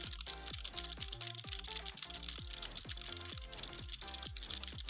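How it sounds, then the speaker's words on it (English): Rapid, uneven clicking of computer keyboard keys about a foot from a SteelSeries Arctis 5 headset microphone, close and crisp, continuing without pause and with no voices. "it's definitely picking up the keyboard clicks"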